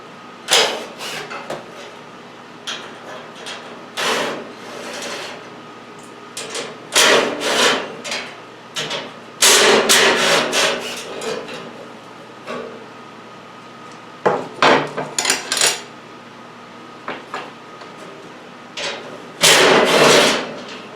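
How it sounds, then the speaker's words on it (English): Ten-millimetre bolts being worked loose with a wrench, heard as clusters of sharp metallic clicks, ratcheting bursts and knocks separated by quiet gaps, close and fairly loud with no talk. "all these bolts have to come out"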